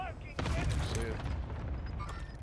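Rapid video game gunfire crackles in dense bursts through most of a short multiplayer shooter match, with players' voices talking over it.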